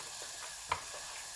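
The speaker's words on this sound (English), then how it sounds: "while that's now just starting to lightly saute" Vegetables with a little tomato purée lightly sautéing in a pan for a homemade soup, a soft continuous sizzle with faint stirring and one small tick.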